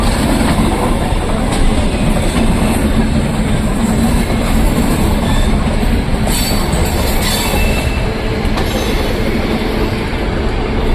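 A Hyderabad metro train runs near Kachiguda with a loud, continuous rumble of wheels on rails, squealing flanges and faint clickety-clack, heard from aboard without any talk.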